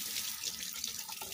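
Steady running tap water splashing into a kitchen sink as hands are washed, a soft continuous hiss at moderate-low level with no talking.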